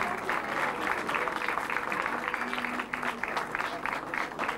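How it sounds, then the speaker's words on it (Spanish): A crowd at a 1997 Spanish trial championship prize ceremony in Vigo claps steadily and warmly for the full duration, the applause dense and sustained with a faint voice beneath it. "Un fuerte aplauso, por favor, para los tres."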